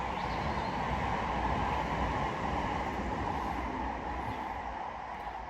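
A tram rumbles past with a steady, broad rolling roar that stays loud throughout and begins to fade near the end.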